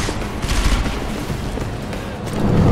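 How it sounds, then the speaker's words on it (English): A grenade blast in the video game Deus Ex: Mankind Divided, a loud, dense, rumbling burst of explosion and gunfire noise that carries on through the whole span without a break. "Oh shit, that's a grenade."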